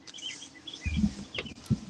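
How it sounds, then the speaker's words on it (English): Songbirds chirp and trill outdoors in a quiet, tranquil setting, faint high calls scattered over soft background noise, with a couple of low thumps mixed in. "you're right there with the birds singing and everything"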